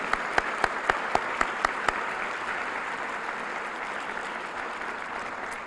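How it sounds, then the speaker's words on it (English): Applause from an audience of senators, representatives and county commissioners, with several sharp, distinct claps near the start over a steady bed of crowd clapping that continues evenly to the end. "I would hope you would join me in another round of applause."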